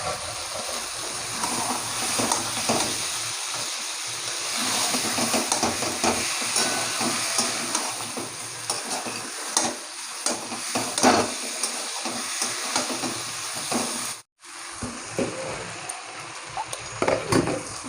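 Fried potatoes go into a pot of chicken cooking in oil for a Bengali chicken curry, with steady sizzling, stirring scrapes and occasional clanks of utensil on pan, fairly close and continuous.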